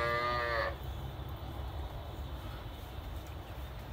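A dairy cow gives a single loud, drawn-out moo at the start of milking in the corrals, then fades into a steady low barn hum.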